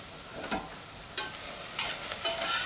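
Onions softening in a pan, a quiet steady sizzle with a few sharp scraping stirs toward the end, no talking.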